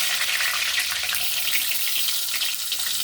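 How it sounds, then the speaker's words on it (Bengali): Three eggs frying in hot oil in a kadai, a steady broad sizzle with no pauses, close and fairly loud throughout. "এবার ডিম তিনটে তুলে দেবো।"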